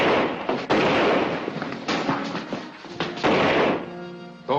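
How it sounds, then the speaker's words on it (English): Gunshots fired during a scuffle in a 1949 crime film scene, several sharp loud bangs scattered over a busy, noisy background with struggle sounds. "Those were shots."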